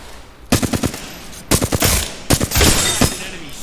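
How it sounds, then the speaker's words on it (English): Rapid automatic gunfire in the game Apex Legends, several short bursts of sharp cracking shots, loud and close, separated by brief pauses. "Opening fire."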